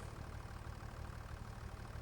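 Tractor engine in the video game Farming Simulator 25, a low, faint, continuous throbbing drone with steady pulsing, alone without voices.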